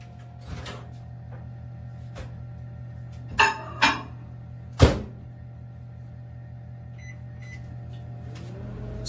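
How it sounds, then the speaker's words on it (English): A microwave oven runs to melt unsalted butter, giving a steady droning hum. A few sharp clunks and clicks from the door and handling are heard near the middle. "I'm going to put it in the microwave to melt it."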